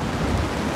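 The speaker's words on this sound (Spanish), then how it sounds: "¡De repente ha llovido mucho!" Steady heavy rain, a dense broadband hiss of water pouring down, close and constant with no voices.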